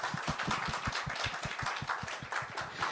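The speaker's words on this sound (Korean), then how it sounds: "우리 하나님께 우리 영광의 박수를 올려드리시겠습니다" A church congregation claps together in a quick, steady rhythm during a service, many hands beating in time at moderate volume with a faint roomy wash behind.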